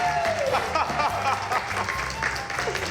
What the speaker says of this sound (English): Put your hands together, ladies and gentlemen.